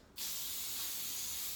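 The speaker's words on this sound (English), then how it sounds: "Don't spray it too close" A burst of spray from a handheld sprayer aimed at stained glass cookies, starting abruptly after a brief quiet moment and continuing as a loud, steady close-up hiss.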